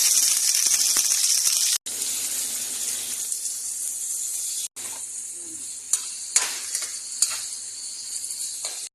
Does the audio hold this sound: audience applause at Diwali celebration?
no